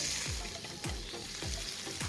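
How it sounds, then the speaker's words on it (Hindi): Mutton fries in a pan during a mutton curry, a dense steady sizzle with soft scraping stirs about every half second and no voices. "इसे हम 30 सेकंड तक भूनेंगे"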